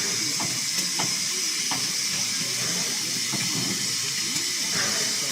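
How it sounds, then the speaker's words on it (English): Steam locomotive Eddystone on a turntable gives off a continuous loud hiss of steam with faint knocks beneath, while people talk. "they use all the water in the boiler to make steam to push all those big wheels around"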